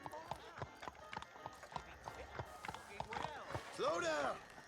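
Horse hooves clip-clop steadily as the horse approaches in the Western game Red Dead Redemption, followed by a short whinny, with a voice talking over it.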